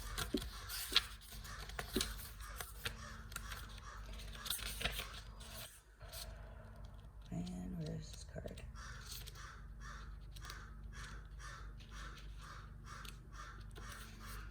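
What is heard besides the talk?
crow cawing at the window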